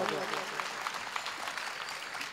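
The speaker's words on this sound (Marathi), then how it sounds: "ताईसाठी एकदा जोरदार टाळी वाजवा" An audience at a kirtan claps in a dense, continuous round of applause, heard at moderate loudness and fading slightly toward the end.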